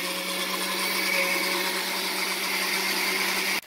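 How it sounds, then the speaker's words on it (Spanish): A blender whirs steadily and loudly through a rocoto cream sauce, the motor drone holding an even pitch for over three seconds before cutting off abruptly at the end, with no talking. "Todo esto lo vamos a tapar y lo voy a licuar"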